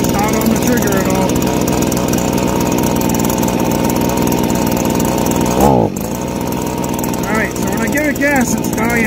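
Stihl handheld blower two-stroke engine running lean, a loud buzzing drone that sputters briefly and drops in level as it starts dying out, with someone talking over it.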